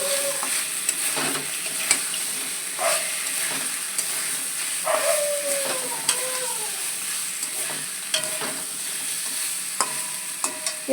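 Egg curry with fried pumpkin bori being stirred and fried in a pan, with a steady broad sizzle under repeated scraping and clinking strokes of a spatula, and occasional squeaky scrapes, no voices.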